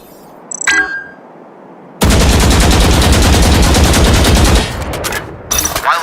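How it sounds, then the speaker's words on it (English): Sustained automatic gunfire from a full magazine emptied at a target in the Valorant video game, a dense rapid burst lasting about two and a half seconds, loud and close, followed by a short clattering tail. "Focus your aim, then fire a full magazine into the target."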